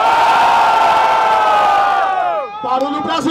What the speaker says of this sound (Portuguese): Barulho pra cima do Moita